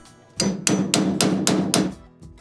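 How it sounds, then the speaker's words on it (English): Five or six sharp, close hammer blows land in a quick, even series on the ends of a steering column lock plate from a Karmann Ghia or Beetle, followed by quiet. "you have to hammer over the ends of the lock plate"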